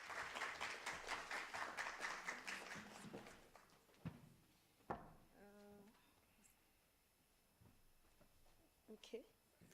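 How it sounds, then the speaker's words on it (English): A short burst of scattered audience applause at a university Research and Innovation Week event welcomes a speaker. The clapping is faint and fades within about two seconds, leaving a quiet room with a few knocks and a voice. "Let's give a round of applause"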